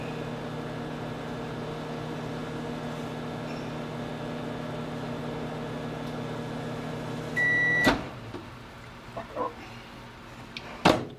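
A microwave oven heats a hot dog, its steady low hum and whir running unbroken for several seconds. A beep follows, then the clunk of the door opening and a few quieter knocks as the food is handled.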